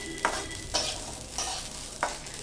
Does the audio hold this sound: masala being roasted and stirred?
yes